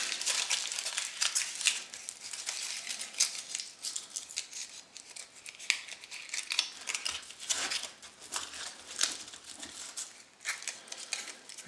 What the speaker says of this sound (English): So I'm going to go with this weird looking little thing. Aluminum foil.